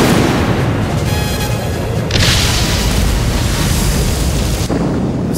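Naval gun batteries fire in a dense, continuous roar of booming blasts and rumbling concussion, loud and sustained with brief sharper cracks layered through, no voices heard.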